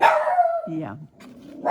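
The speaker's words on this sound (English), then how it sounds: "Please excuse my dog." A house dog barks indoors, a few close yips and a drawn-out howling bark, with a person talking briefly alongside.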